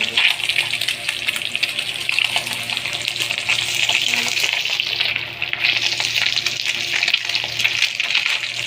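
Chanda fish frying in hot oil in a pan, a steady, loud, continuous sizzle with bubbling crackle throughout and no talking.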